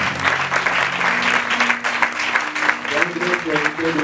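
A church congregation breaks into sustained, dense applause and cheering, a loud clapping wash that continues throughout the whole stretch with voices mixed in.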